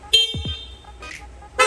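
A short, loud electronic horn on a Honda Click V2 motorcycle blares in two quick bursts, with a falling tone between them, close and sharp against a quiet background.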